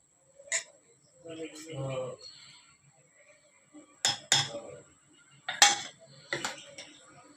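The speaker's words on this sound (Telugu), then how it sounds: "దోశల పిండి ఉల్లిపాయలు కరివేపాకు అల్లం పచ్చిమిర్చి జీలకర్ర ఇప్పుడు దీంట్లో కలుపుకుందాం" A spoon clinks and taps against a bowl while dosa batter is mixed with onions, curry leaves, ginger, green chillies and cumin. Sharp close clinks come in scattered bursts, with a short stretch of soft voice-like murmuring early on.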